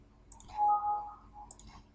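A couple of soft, close computer mouse clicks while selecting parts in SolidWorks, each brief and faint against near silence.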